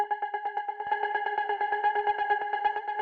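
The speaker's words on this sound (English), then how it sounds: "It's this little synth sound where we're just going just straight 16th notes like that." A bright FM synth plays a steady run of fast, even sixteenth notes, its tones colored by echo and distortion effects, with nothing else in the mix.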